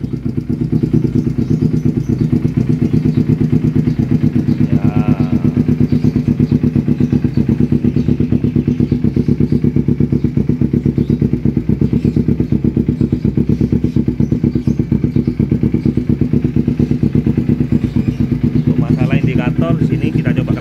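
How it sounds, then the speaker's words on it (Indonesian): A carbureted Kawasaki Ninja 250 motorcycle engine runs steadily and loudly throughout, a dense low idle that stays close with brief clatter over it, while a person talks. "Coba kita hidupkan mesinnya."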